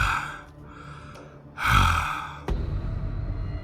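A sharp, breathy gasp bursts out in the middle, with quieter breaths before it and a faint clatter afterward.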